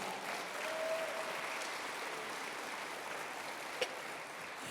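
Church congregation clapping for the Lord during an evangelical sermon, a continuous dense wash of many hands heard at moderate distance, with one brief sharper knock near the end.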